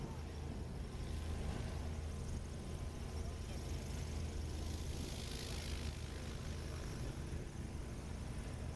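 Small propeller airplane taking off from a short backcountry field in a crosswind, a steady, fairly distant engine drone holding throughout with wind and faint background noise.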